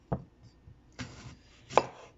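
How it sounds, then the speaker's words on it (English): A knife chops apples on a cutting board on a farm, three separate crisp thuds spaced about a second apart, close and fairly quiet, with no talking. "we're gonna just start chopping the apples"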